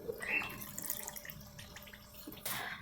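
Water pours into a pot for caramel with a steady splashing stream, close and moderate in level, ending in a brighter surge of flow near the end.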